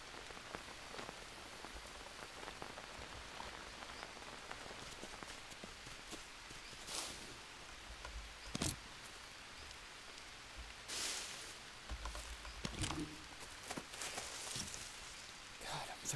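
Steady rainfall in the video game Green Hell patters throughout, with occasional louder knocks and shuffling steps mixed into the constant hiss.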